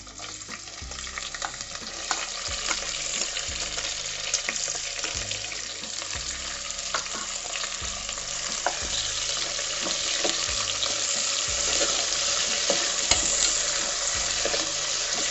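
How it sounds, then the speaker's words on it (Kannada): Onions frying with spices in a pan for mutton biryani, a loud continuous sizzle with rhythmic stirring scrapes throughout, close and steady with no talking. "ಇವಾಗ 2 ಮೀಡಿಯಂ ಸೈಜ್ ಈರುಳ್ಳಿ ತಗೊಂಡಿದ್ದೀನಿ. ಈಗ ಅದನ್ನು ಆಡ್ ಮಾಡ್ತಾ ಇದ್ದೀನಿ."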